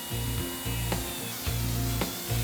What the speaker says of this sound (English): begin drilling from the inside of the tire with the drill turning in a clockwise direction